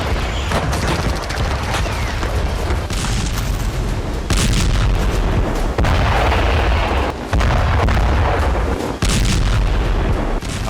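Bombardment in wartime news footage: a continuous roar of heavy explosions and booming artillery fire, loud and close, with repeated sharp bursts and rumbling blasts layered throughout and no voices.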